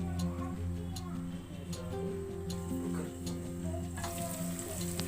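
Tomatoes sauté in a covered pan with a soft, steady sizzle and faint crackle, quiet and continuous, with a little talking over it.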